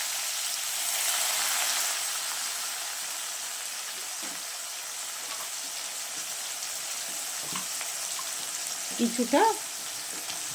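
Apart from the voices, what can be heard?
raw onions frying in hot oil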